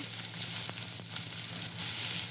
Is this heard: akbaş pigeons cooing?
no